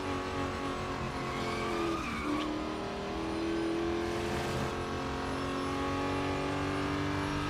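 A race car in the Real Racing 3 mobile game drones steadily at close range, with a tire squeal and a brief sweep in engine pitch partway through as it corners.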